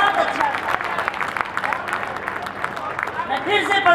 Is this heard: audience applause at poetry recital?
yes